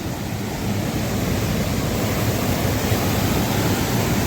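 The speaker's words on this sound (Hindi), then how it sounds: "तो दोस्तों ब्यास नदी इसको छूती हुई है।" Flooded Beas river rushing beside a damaged bridge, a loud, steady roar of churning water filling the scene without pause.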